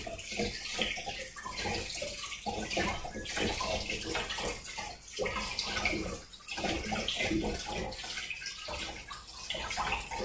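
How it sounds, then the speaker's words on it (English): Kitchen tap water runs steadily while vegetables are washed vigorously beneath it, a continuous close splashing rush with small fluctuations and no talking. "I'm going to wash these pretty vigorously to get off any potential dirt or anything that might be in here."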